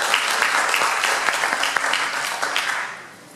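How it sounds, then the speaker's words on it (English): At a city commission candidates' debate in the Lake Worth Playhouse, a theater audience gives loud, close applause with crisp individual claps that gradually fades toward the end. "So I would give yourselves a round of applause."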